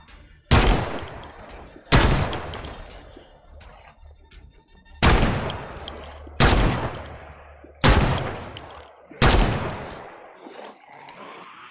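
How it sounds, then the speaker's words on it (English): Six loud, sharp shotgun blasts in the Project Zomboid video game, each a sudden crack with a short decaying tail, spaced roughly one to two seconds apart with quiet gaps between. "Yeah, shotguns are this powerful in 41, not this powerful in 42."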